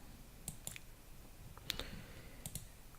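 Several sharp mouse clicks, quiet and close, spaced irregularly in pairs across a few seconds over a faint room hiss, while data-analysis options are chosen in a spreadsheet program.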